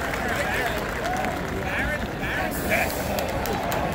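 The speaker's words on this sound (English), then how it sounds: "You gotta clap till first pitch." Big crowd at Yankee Stadium applauding steadily before the first pitch, a dense wash of clapping and babble with occasional whistles and shouts rising above it.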